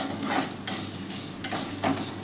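Poppy seeds and sesame seeds stirred in a frying pan, a steady dry sizzle with three sharp scrapes of the spoon spaced through the short stretch, close and moderately loud with no voices.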